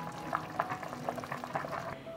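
Water boiling in a pot on a stove gives a soft, steady bubbling with small irregular pops, faint and close, with no voices.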